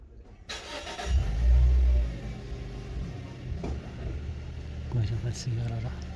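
A car, pranked by having one of its wheels removed, starts up and drives off with a low engine rumble that swells, then settles into a steadier hum. Excited voices are heard outdoors.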